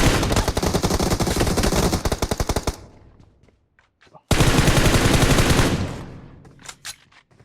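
Long bursts of rapid automatic gunfire in PUBG Mobile come in two loud sustained volleys separated by a short lull with a few scattered shots.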